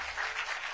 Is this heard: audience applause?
yes